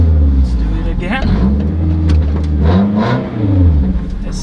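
A Scion tC with its muffler deleted revs loudly and close, the raspy engine note climbing and dropping through several throttle blips in a steady, continuous roar.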